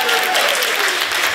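A comedy club audience breaks into loud, close applause during crowd work, a dense burst of clapping that fills the whole short moment.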